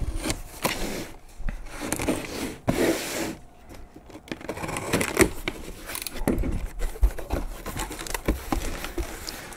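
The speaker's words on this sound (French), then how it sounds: "On va ouvrir ça en faisant attention de rien découper à l'intérieur" A blade slices open the packaging of a small white box, producing close scratchy rubbing and crinkling sounds with sharp irregular ticks, intermittent and fairly quiet, no voices.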